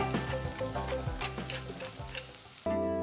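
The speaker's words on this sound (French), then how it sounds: "on dépose la viande dans la matière grasse et surtout on ne la touche pas avant qu'elle ne colore" A veal shank for osso buco sears in hot fat, giving a steady close crackling sizzle with irregular spits and pops, which jumps louder and brighter near the end, with no one talking.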